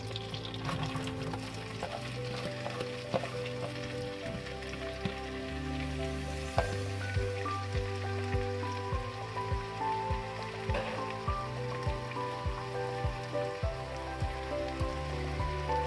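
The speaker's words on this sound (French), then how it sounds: "dans une sauteuse, donc j'ai mis la noix de beurre et je vais venir ajouter mes oignons" Onions frying in melted butter in a sauté pan, a dense continuous crackling sizzle with a steady rain-like hiss, close and even, and a run of regular thumps or taps in its second half, with no talk.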